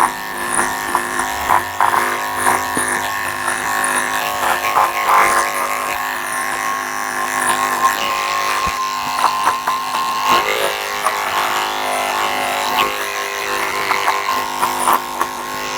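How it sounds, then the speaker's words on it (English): An electric grooming clipper buzzes steadily and close by while a Maltese mix dog with itchy, scabby skin is shaved, its hum wavering slightly as the blade runs over her coat, with no talking. "when I run the clipper blade down her"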